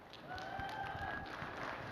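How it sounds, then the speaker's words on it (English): Applause from a panel audience at an entertainment expo, a steady moderate wash of clapping with a faint tone over it, fairly distant. "Please give them a big round of applause."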